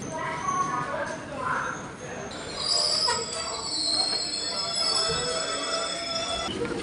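A train pulls into Thrissur railway station in the morning, its wheels squealing and the carriages rumbling close by for several seconds while people talk nearby.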